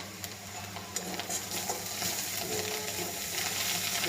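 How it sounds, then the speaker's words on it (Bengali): Puti fish chochchori frying in a pan at home, a steady close sizzle with occasional scraping and stirring clinks, quiet and continuous. "এই যে ভাজা হচ্ছে, কত সুন্দর ভাজা হচ্ছে।"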